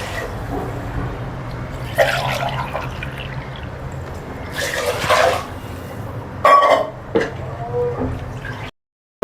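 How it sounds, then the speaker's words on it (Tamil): Water is poured into a pot of rice while it cooks, giving splashing and gurgling with a few clinks of pot and utensil, fairly close, before the sound drops away. "1 கப் ரைஸுக்கு 2 கப் தண்ணி ஆட் பண்ணிக்கலாம்."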